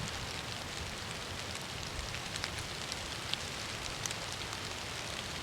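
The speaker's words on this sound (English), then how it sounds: "then it started raining" Steady rain falls on a forest campsite, a dense, even hiss of drops with occasional sharper patters, constant and fairly close, with no voices.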